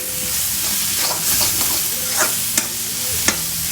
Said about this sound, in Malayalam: നല്ല വഴണ്ട് വന്ന് വരണം